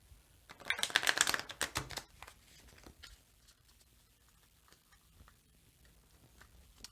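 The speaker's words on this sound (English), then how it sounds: "we'll shuffle these" A deck of cards being shuffled for a card game, a brisk riffling burst of close paper flicks lasting about a second and a half, then dying away to faint scattered taps and quiet room tone.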